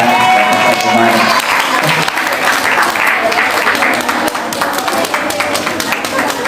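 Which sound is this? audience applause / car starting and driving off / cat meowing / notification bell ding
audience applause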